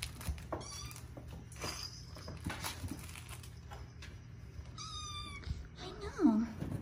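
A kitten seeking attention gives several high, short meows spread across the clip, one louder and lower near the end, amid light tapping and household noise.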